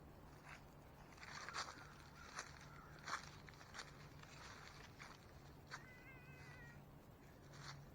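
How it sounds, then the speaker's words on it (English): A cat named Mustache gives a few quiet meows at irregular intervals, along with faint footsteps and small clicks in a calm room. "Here's Mustache the cat."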